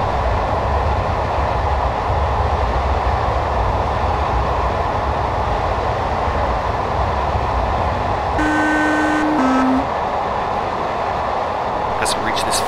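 Class 421 electric multiple unit in Train Simulator 2015 on the Brighton to London Victoria route: a steady, loud rolling rumble runs throughout, with a brief two-tone electronic beep near the end.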